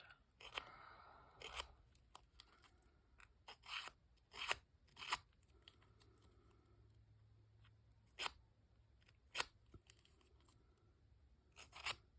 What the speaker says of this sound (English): rough it up a little bit with my scissors